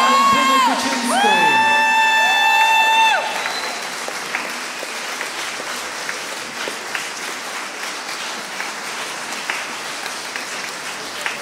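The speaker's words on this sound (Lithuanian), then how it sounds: "Plojimai nesibaigė, dėkingumo žodžiai taip pat." An audience applauds the Oktava orchestra after its concert, a dense, sustained roar of clapping with scattered cheers. A sung or played note sounds over the opening seconds before the clapping carries on alone.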